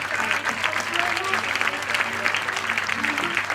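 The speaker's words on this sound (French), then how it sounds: "Et on applaudit bien fort Céline." A theatre audience claps continuously for a performer called up on stage, a dense, even wash of applause heard at moderate distance with some voices mixed in.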